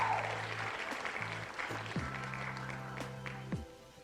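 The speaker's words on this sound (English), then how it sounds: "Round of applause, round of applause." Applause at a 3D printing event as a Polymaker prize winner is named, a diffuse crowd clapping throughout while low steady tones hum underneath.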